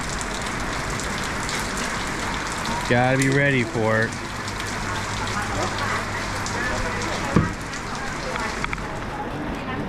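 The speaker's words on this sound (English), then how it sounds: "Bangkok rain." Heavy rain pours steadily onto surfaces in a Sampeng market lane in Bangkok's Chinatown, a dense continuous hiss. Someone speaks briefly over it, and a single sharp knock sounds later.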